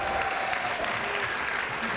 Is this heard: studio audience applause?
yes